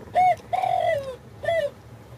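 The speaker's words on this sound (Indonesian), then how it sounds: "tekukur." A spotted dove coos close by: three clear, hollow notes, the middle one drawn out and falling, over faint background noise.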